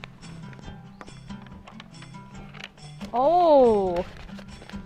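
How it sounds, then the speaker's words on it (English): A horse whinnies loudly for about a second, its high wavering neigh rising and falling, after scattered light tapping and brief talk. "it's a horse."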